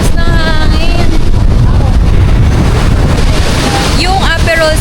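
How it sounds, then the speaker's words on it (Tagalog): Strong wind buffets the microphone on a beach in Boracay during the habagat monsoon, a constant loud roar with surf and voices faintly underneath. "Sobrang lakas ng hangin."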